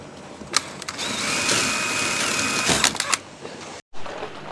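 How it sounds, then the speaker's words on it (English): Power drill pre-drilling holes through concrete board siding outdoors, a close whining drill run of about two seconds bracketed by short clicks and bursts, then a brief silence. "So let me pre-drill these holes."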